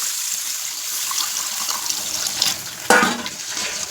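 Water is poured into a pan of frying curry with potatoes and spices for a village-style fish curry, a steady trickling hiss that turns into a louder splash and sizzle near the end, close by with no talking.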